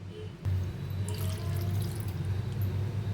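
Water is poured into a pan of potato curry, a soft steady splashing stream that starts abruptly after a short quiet moment and runs on evenly.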